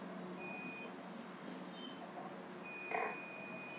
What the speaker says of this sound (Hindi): माइनस से बीप कर रहा है